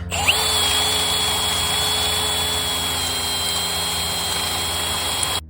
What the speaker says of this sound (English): now we're just using a step drill because it speeds things up pretty good